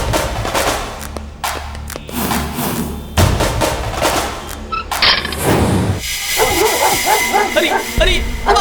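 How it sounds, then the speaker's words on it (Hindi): A dog barks and yips repeatedly close by, sharp and loud over a busy comedy scene, with people talking and shouting throughout. "अरे ये कुत्ता मेरे पीछे कहीं को पड़ गया यारो"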